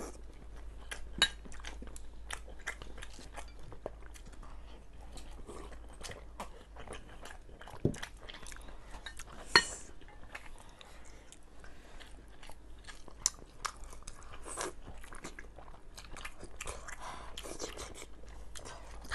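Someone chews and bites into hot, freshly cooked sweet-and-sour bacon: soft, close, irregular mouth sounds and crunches throughout, with faint clinks of utensils and bowls.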